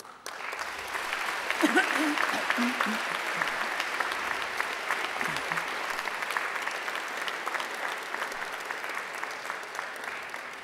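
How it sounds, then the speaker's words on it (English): Graduates at a university graduation ceremony give a sustained round of applause to their families and friends, steady dense clapping filling the hall at moderate level from start to finish. "And now I invite you to give them a mighty round of applause."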